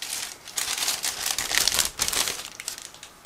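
A plastic bag holding a 1/35 scale model kit is opened nearby, producing bursts of crinkling and rustling that rise and fall over a few seconds.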